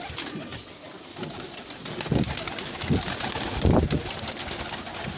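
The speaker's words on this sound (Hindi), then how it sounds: "कबूतर ही कबूतर है व्यूअर्स" Many pigeons coo together in a pigeon loft, close by, with soft overlapping throaty calls rising in repeated bursts over a steady background murmur.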